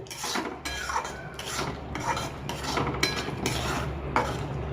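Onion and tomato masala roasting in a pan while a spoon stirs and scrapes it in repeated rhythmic strokes, with soft sizzling beneath and no talking.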